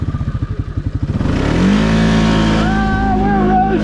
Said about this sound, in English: very little throttle gets this thing to kick off and go. And it takes off.